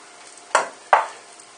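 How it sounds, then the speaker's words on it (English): Half a pound of breakfast sausage browning in a pan for gravy, with a low steady sizzle broken by two short, louder scraping bursts about half a second apart, no voices. "It's browning up for the gravy."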